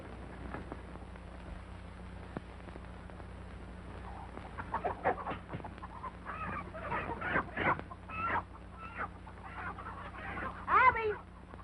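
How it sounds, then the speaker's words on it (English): A rooster and other fowl cluck and squawk in a rural farmyard setting, a series of irregular calls growing busier toward the end over a steady low hum, moderately distant. "Help me find that rooster."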